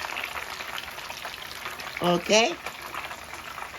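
Fish frying in hot oil for Easter: a constant bubbling sizzle fills the background throughout, while a person briefly speaks near the middle.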